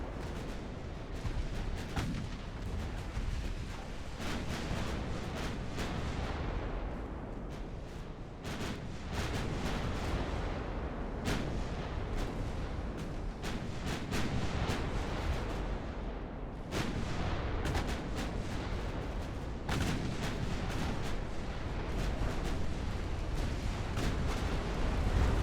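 Battleship main guns fire in a naval battle in the game Ultimate Admiral: Dreadnoughts: repeated heavy booming salvos over a constant rumbling battle roar, with no voices.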